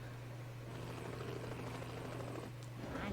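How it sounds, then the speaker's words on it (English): A police helicopter in The Incredibles video game cutscene drones steadily with a low rotor hum and broad engine wash, continuous and fairly quiet, with a brief swell near the end. "grab onto this police helicopter to get to our next destination"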